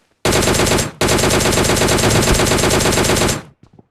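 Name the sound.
gunfire in PUBG Mobile Lite video game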